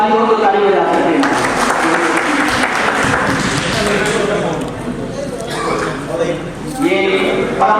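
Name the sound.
audience applause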